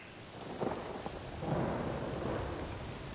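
Steady rain falls in the video game Days Gone as thunder rumbles low, with a few soft swells in the rolling boom; a constant, fairly faint wash of rainfall with no talking.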